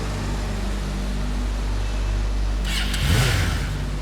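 Motorbike engine idling with a low steady hum, then revving up briefly near the end with a rising whine and a burst of noise.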